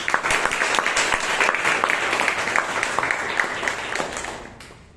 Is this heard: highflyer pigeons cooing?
no